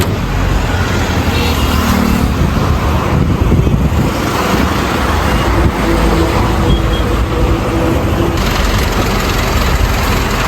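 A car driving off, loud close engine and road rumble, steady and dense throughout with wind buffeting, no distinct gear changes.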